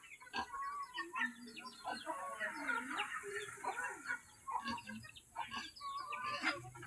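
Chickens cluck repeatedly in short, irregular bursts at close range, with farm birds calling over one another throughout.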